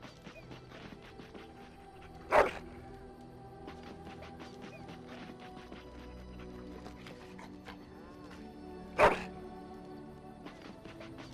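A dog barks in a video game: two loud, sharp barks about six seconds apart stand out over a busy backdrop of game music and ambience.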